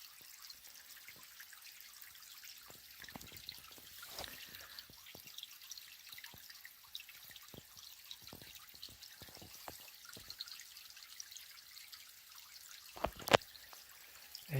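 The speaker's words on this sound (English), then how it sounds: "Everything here lives because of the stream." A small natural stream trickles and drips softly at a distance, a faint continuous wash broken by scattered light splashes and clicks, with no one speaking.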